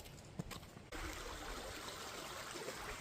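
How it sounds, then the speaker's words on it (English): Creek water running across a road, a steady broadband rush of flowing water that stays continuous and fairly close, with a brief quieter moment at the very start before the flow fills in. "This is a creek that comes across the road"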